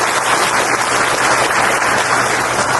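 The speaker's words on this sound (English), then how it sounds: "Let us all give them and give Mrs. Subodh Menon a huge round of applause." Dense, steady applause from a ceremony audience fills the space at a Meghalaya education event with a new building inauguration, continuous and fairly loud with no voices over it.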